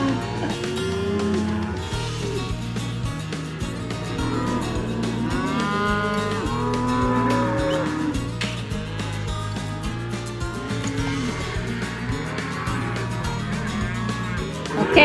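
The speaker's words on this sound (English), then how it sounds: "This is the pen of calves we'll be branding." Calves penned up for branding on a ranch moo loudly and repeatedly, many overlapping calls forming a continuous, close bawling chorus with no pauses.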